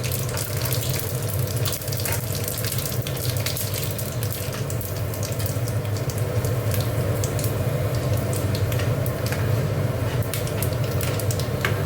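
Bay leaf, dry chilli, radhuni and fenugreek tempering in hot oil for a bitter moong dal: a dense, steady hiss and crackle sizzling continuously, close by, with no talk.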